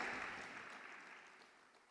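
Church congregation clapping loudly in praise, a broad wash of applause that starts strong and gradually fades over two seconds, with no voices over it.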